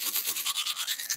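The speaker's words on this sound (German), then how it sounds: "Und nun schrubbe ich mir wie mit einer Bürste die Zähne." Quick back-and-forth scrubbing of a brush on teeth, a close, rhythmic bristly rasp repeated about ten times, alone.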